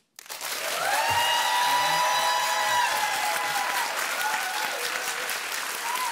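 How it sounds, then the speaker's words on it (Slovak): Recorded applause played back from a television studio sound booth starts abruptly and holds as a dense, steady wash of many hands clapping, slightly fading toward the end. "Majú v tej zvukovej réžii niekoľko druhov tých potleskov."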